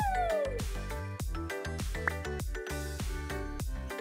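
A cat meows repeatedly in short, tonal, rising-and-falling calls over several seconds, fairly close and clear, with a musical backing underneath.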